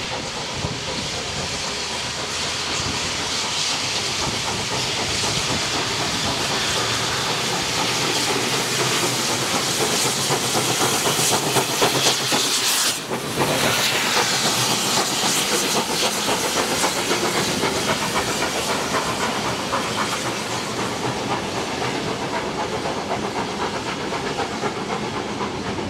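Steam locomotive 3642 standing at North Strathfield, Sydney, on a vintage shuttle tour: loud, continuous steam hiss close by, with one brief sharp burst near the middle.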